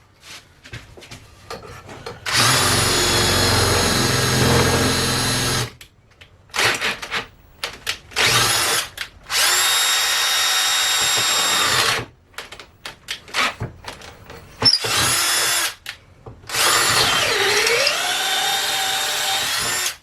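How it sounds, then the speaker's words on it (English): An electric drill whines and grinds in several bursts while drilling a hole, separated by short pauses, with rasping scraping and clatter between runs, close by. "This drill sucks so bad."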